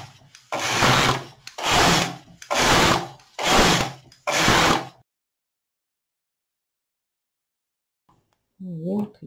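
A hand-cranked circular sock knitting machine knitting in the round gives five even, loud whirring rattles, each about a second long with short gaps, then silence and a brief voice at the end.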